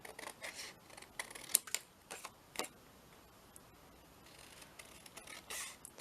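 Scissors snipping out paper sewing-themed embellishments, a series of quiet close cuts in an uneven rhythm with small pauses between them.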